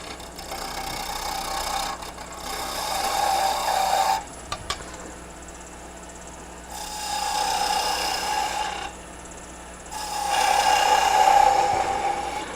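A half-inch oval skew chisel cutting spinning wood on a lathe in three rasping bursts of a few seconds each, with the motor humming quietly between cuts and a couple of sharp clicks in the middle.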